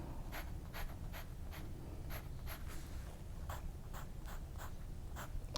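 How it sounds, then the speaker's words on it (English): Pencil hatching and crosshatching on paper, with soft, close scratchy strokes repeating in a steady back-and-forth rhythm, quiet and isolated. "the more times that I have to crisscross and literally bury the paper"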